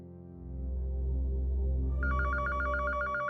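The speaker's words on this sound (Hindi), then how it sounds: "कृष्णा देखो किसका फोन है।" A telephone bell starts ringing partway through, a rapid repeating trill over a low steady hum, fairly close and clear.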